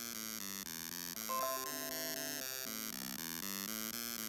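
A BBC micro:bit's small built-in speaker plays a sequence of thin, buzzy electronic tones stepping through different pitches, faint but steady and continuous, with no voices.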